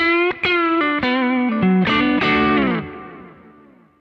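Electric guitar chords strummed through a Kemper amp profile with a clean tone, several ringing hits in sequence with a shimmering, effected sheen, the last chord sustaining and fading.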